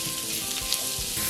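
Mushrooms tipped into a pan of frying shallots hiss in a steady close sizzle, with a few soft clatters of stirring, and a louder burst of sizzle near the end; no talking.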